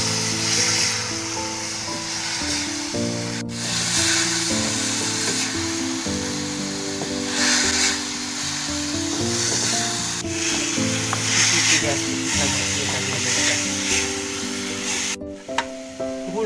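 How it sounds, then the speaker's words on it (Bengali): Tamarind pulp hits a pan of semolina cooked with papaya, sending up a continuous, fairly loud sizzle with rubbing, scraping stirs throughout. "এখন আমি তেঁতুলের কাঠটা ঢেলে দিচ্ছি।"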